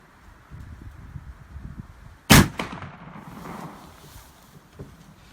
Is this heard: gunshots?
yes